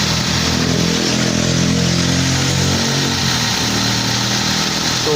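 A Toyota bB's engine runs just after starting, a steady, loud, close idle with an even low drone and no voices.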